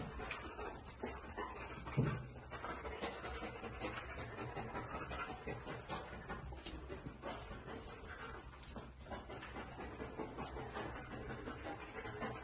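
A dog pants steadily throughout a nosework search in an indoor room at a trial, with faint whimpers, a soft thump and quiet background noise at low volume.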